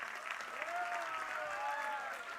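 Audience at a preschool annual function claps for a group of young children, a short burst of steady applause with faint voices mixed in.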